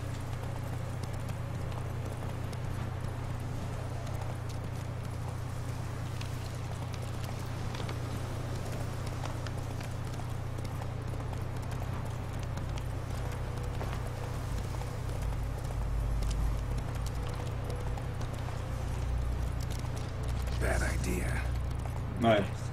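Horse galloping in The Witcher 3, a steady rhythmic clip-clop of hooves over a low continuous rumble of game ambience, with faint talk in places.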